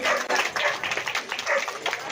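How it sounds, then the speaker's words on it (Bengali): Crowd applause at a livestock exhibition award ceremony in Chanditala, scattered hand clapping from an audience, moderately loud and continuous for a couple of seconds with an uneven, patter-like rhythm. "সবাই জোরে হাততালি দেবেন।"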